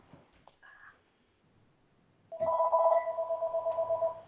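A telephone rings with a loud, close, warbling electronic tone repeated in steady pulses, after a few quiet knocks and a brief faint chirp in an otherwise hushed room.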